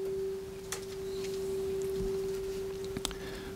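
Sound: sine wave test tone

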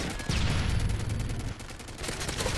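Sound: sentry gun firing in Call of Duty: Modern Warfare 3 video game

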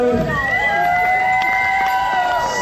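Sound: audience applause and cheering

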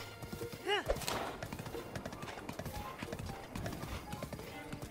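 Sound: horse hooves clip-clopping in Zelda Breath of the Wild video game

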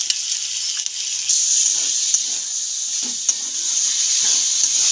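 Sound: vegetables sizzling as chili, soy and tomato sauce are added

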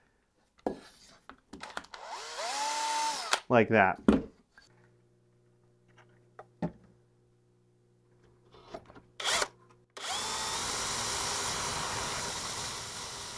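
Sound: drill boring hole through metal

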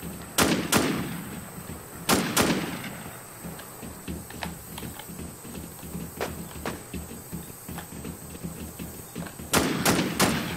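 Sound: gunshots in the video game War Z

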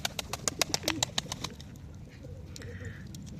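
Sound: pigeons cooing in large coop

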